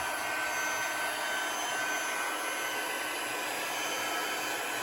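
A heat gun blows hot air over embossing powder on a card, a steady, loud, close whooshing roar that continues unbroken throughout with no talk.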